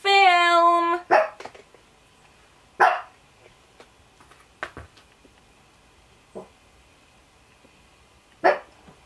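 Several dogs barking indoors in short sharp bursts spread across the clip, some loud and close, others fainter, with a brief high tonal whine at the start.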